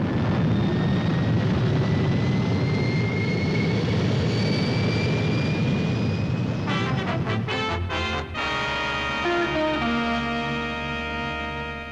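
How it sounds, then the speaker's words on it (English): Sci-fi spaceship main boosters firing, a steady loud roaring rumble with rising whine tones that gives way to pulsing, stuttering engine bursts near the end. "Firing main boosters."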